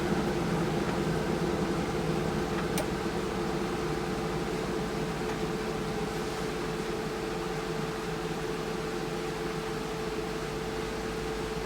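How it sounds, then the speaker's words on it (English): A steady RV air conditioner fan hums and whooshes at a constant, even level, with no talking and no change in pace throughout. "that's with the air conditioner running right now"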